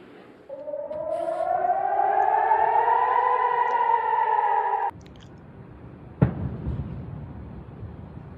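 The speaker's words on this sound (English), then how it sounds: "Air raid sirens and explosions are sounding over Israeli airspace tonight." An air raid siren wails over Jerusalem at night, rising and holding a loud, steady tone for several seconds before cutting off, followed by a single sharp explosion and its rumbling echo.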